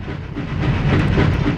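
In the MediEvil video game, a moving train gives a continuous broadband rumble with faint hissing and clattering texture, close and steady throughout, with no voices over it.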